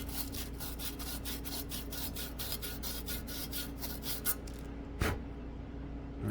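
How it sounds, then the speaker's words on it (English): Rolled sandpaper rubs corrosion from the small light ports of a VW speedometer, a close, fast rhythmic rasping of repeated short strokes that stops near the end, followed by a single knock. "Rolled up some sandpaper. Get it in these little ports for the lights."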